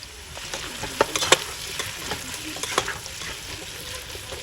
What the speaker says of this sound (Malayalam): ഇനി നന്നായിട്ട് ഹൈ ഫ്ലെയിമിൽ വെച്ചിട്ട് ഇതൊന്ന് സോട്ട് ചെയ്തെടുക്കണം